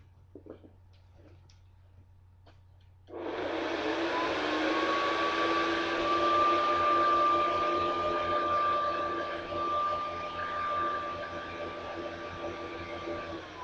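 A Hoover Convertible U4365 upright vacuum cleaner switches on after a few quiet seconds with light clicks, then runs loud and steady with a whining motor tone and broad airflow rush, close by, alone.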